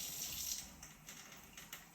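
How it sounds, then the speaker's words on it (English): Tap water trickles and splashes into a container while preparing mate, a soft, faint pouring sound with small gurgling pulses over two seconds. "I'll pour some water here, but this shouldn't be hot water"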